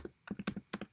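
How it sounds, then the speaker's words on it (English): Keystrokes on a computer keyboard while typing a short shell command in the Emacs editor, about seven close, crisp clicks falling in two quick clusters within a second, with no voice. "So I'm going to type biomake"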